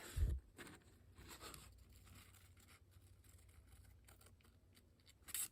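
Quiet snips of scissors cutting through a paper envelope, a sharp cut at the start and another near the end, with soft paper handling and faint rustling between them.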